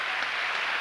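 A gymnastics gala crowd at Coubertin applauding a champion rhythmic gymnast's clubs routine, a steady, dense wash of clapping from a large arena audience, heard only in a short burst.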